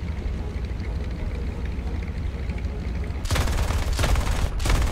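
Rapid gunfire bursts from an aircraft in a flying video game start suddenly after a steady engine drone, loud and close, with a brief gap before a second volley.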